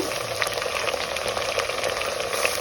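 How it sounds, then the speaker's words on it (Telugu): Chopped medium tomato frying in a pan for a traditional Telugu brinjal masala, a continuous moderate sizzle with light bubbling and scattered pops, close and steady. "సో ఒక మీడియం టమాటానైతే వేసుకొని వేయించుకుందాం"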